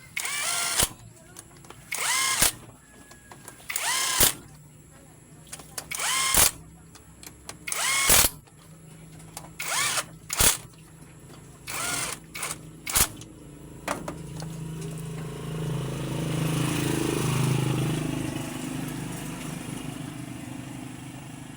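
A Honda CB125 motorcycle engine, earlier noisy and rattling, runs after repair: a series of sharp, loud throttle bursts at uneven intervals, then a steadier continuous engine drone that builds and holds near the microphone.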